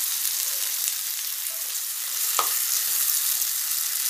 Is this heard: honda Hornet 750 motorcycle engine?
no